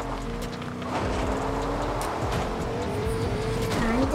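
A car in the video game Fortnite drives steadily with a continuous engine hum and some tire noise, moderately loud and sustained throughout with no talking.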